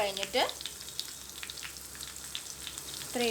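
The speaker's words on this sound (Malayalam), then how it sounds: "നമുക്ക് ഇച്ചിരി ലോ ഫ്ലെയിമിൽ വെച്ചിട്ട് നല്ലോണം മിക്സാക്കി കൊടുക്കാം" Fish curry masala in a Kerala-style spicy curry is stirred over a low flame, a soft steady sizzle with faint scraping, broken at the start and end by a few brief background voices.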